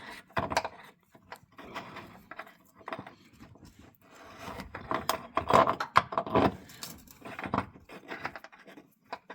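A ratchet tightening body mount bolts on a 2003–2011 Ford Panther platform car, giving quiet irregular clicking bursts up close among rubbing and clanking.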